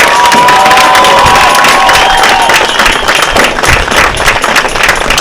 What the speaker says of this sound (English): Let's have one more round of applause for our graduating seniors.